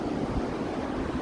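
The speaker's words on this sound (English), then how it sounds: "The tide's coming in hard, though." Ocean waves at a beach as the tide comes in hard, a continuous broadband wash of surf heard up close, steady and fairly loud with some wind rumble on the microphone.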